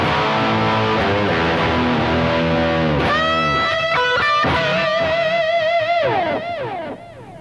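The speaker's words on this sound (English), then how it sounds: "The lead tone is that sound with a little bit more distortion." Electric guitar lead tone with extra distortion, played for worship music, sustained melodic notes and bends ringing loud and close, with no voices over the playing.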